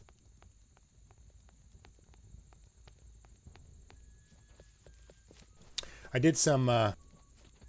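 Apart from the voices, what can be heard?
horse hooves walking, from the video game Haven & Hearth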